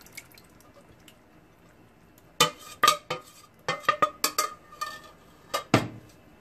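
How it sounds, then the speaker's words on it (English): Spoon stirring dal into a gourd curry in a cooking pot, a burst of wet clinks and scrapes starting after a quiet stretch, irregular and close, with no talking. "Give it a good mix."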